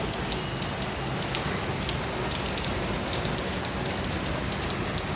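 Heavy rain pouring steadily, a dense continuous hiss of drops striking surfaces close by, with no voices.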